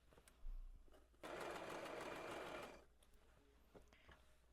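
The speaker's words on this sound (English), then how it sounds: "And then sew along the basting stitch as your guideline to where to sew the side seams together along the hidden pocket." A sewing machine stitches the side seams of a shirred dress along a basting line near a hidden pocket, a steady close whirring run of about one and a half seconds set between quiet handling noises.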